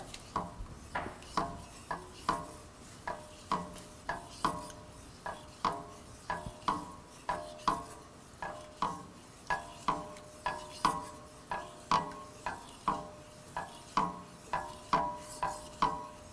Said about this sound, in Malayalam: 2 കപ്പ് 1ാം പാൽ, നാളികേരത്തിൻ്റെ കട്ടിയുള്ള പാലാണ്, ഇതൊഴിച്ച് മിക്സ് ചെയ്യുക